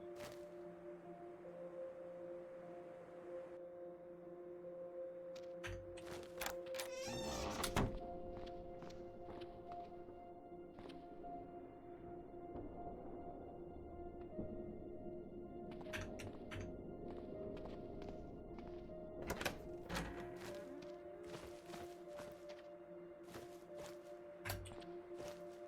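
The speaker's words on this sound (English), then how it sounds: "895 movement points to smash with the 60-liter tank" A 60-liter tank smashes in Cataclysm DDA with a few sharp thunks, most prominent near the middle, over a steady droning game background with faint scattered clicks.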